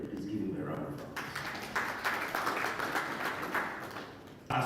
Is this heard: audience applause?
yes